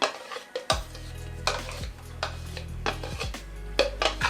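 Green plantain that has just been blended is scraped out of the blender with a utensil, giving a few short scrapes and clinks against the container. The strokes are near and fairly loud over a low steady hum, with no talking.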